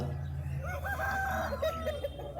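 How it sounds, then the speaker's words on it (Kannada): A rooster crows once at a country chicken market in Chandapura, a faint, wavering call over a low steady background murmur, with no talk over it. "ಇದೊಂದು ಹುಂಜ ಇತ್ತು ಚೆನ್ನಾಗಿತ್ತು ಹುಂಜ ಬ್ರೀಡಿಂಗ್ಗೆ ಒಳ್ಳೆ ಹುಂಜ"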